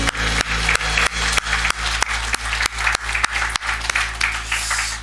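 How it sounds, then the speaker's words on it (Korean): A congregation applauds during a Sunday morning worship service at a Korean Baptist church, a dense, steady wash of many hands clapping loudly throughout, with sharper rhythmic beats running through it. "모든 것 감사하며 하나님 앞에 영광의 박수 올려드리기 원합니다."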